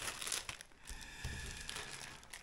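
Small plastic packets of fishing tackle bought from AliExpress crinkle and rustle as they are handled close by, in short uneven bursts, with no talk.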